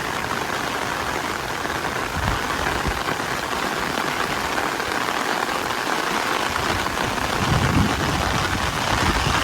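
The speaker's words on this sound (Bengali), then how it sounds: "এখন বৃষ্টি চলে এসছে তাই বৃষ্টির মধ্যেও তারা কাজ করছে" Steady rain pours over rice paddy fields during monsoon planting, a dense, even hiss of drops on water and mud that stays loud and constant from start to finish.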